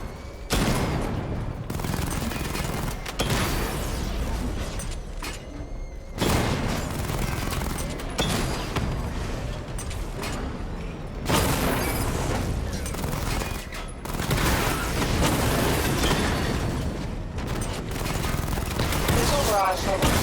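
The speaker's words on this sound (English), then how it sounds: "Charge up missile barrage to level 2 and destroy 4 active targets to complete diagnostic test." Rapid missile barrage fire in Batman: Arkham Knight, a dense, continuous roll of blasts and bursts with brief gaps, loud and busy throughout.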